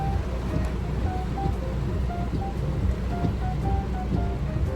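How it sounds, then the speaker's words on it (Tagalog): Heavy rain pours steadily, a dense close hiss with a low rumbling wash and faint intermittent tones, constant from start to finish with no voices. "Ang lakas pa ng ulan. Grabe yung ulan."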